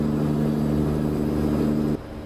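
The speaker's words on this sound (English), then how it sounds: "And my truck is really, really loud." Deep, loud droning truck engine in American Truck Simulator, hauling an oversized load, hums steadily at a constant pitch, then drops abruptly near the end.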